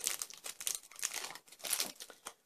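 A small plastic bag holding packaged jewelry crinkles and rustles in close, faint bursts as someone fumbles to open it, with no voices over it.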